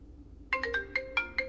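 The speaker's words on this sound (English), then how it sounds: "we can already find that sound as our ringtone" A bright electronic iPhone ringtone playing on a Realme 16 Pro phone: a short rising run of chiming notes, each sharply struck and ringing briefly, played clearly over a quiet background.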